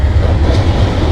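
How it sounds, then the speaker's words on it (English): A long Amtrak passenger train roars past up close, a loud, continuous rumble of wheels on track over a brief moment. "Ooh, a nice long Amtrak too."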